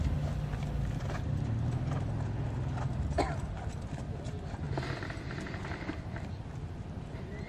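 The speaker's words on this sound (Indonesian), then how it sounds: "ini cuplikan kuda terakhir yang ditunggangi oleh Bang Ajman" Horses being readied for a traditional-class race event clip-clop on the ground in a rapid, fairly faint patter beneath steady background noise and brief mechanical clanks.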